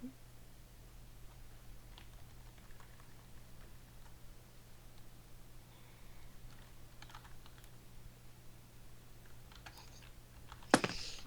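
Someone types on a computer keyboard, producing soft, sparse keystrokes over a quiet low hum, with one sharper clack near the end.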